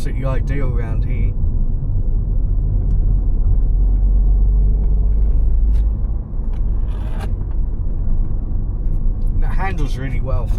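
A Dacia SUV drives along a road near Kirriereoch Hill, its steady low interior engine and tyre rumble running throughout, with a person talking over it.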